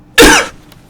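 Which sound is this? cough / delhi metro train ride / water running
cough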